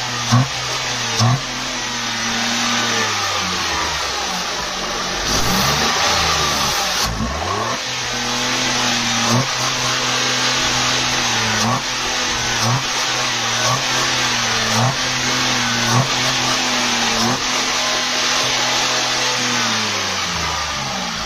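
Car engine being revved repeatedly while throttle body cleaner is sprayed in, with RPM fluctuating; loud, close, rhythmic rises and falls in pitch, roughly every two seconds, with a sharp burst of spray hiss around seven seconds.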